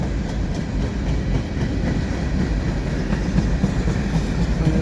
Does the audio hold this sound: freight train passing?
yes